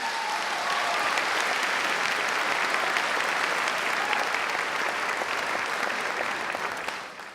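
Sustained audience applause fills a staff convocation hall after a personal testimony, a steady dense wash of clapping that holds evenly throughout and fades only at the very end.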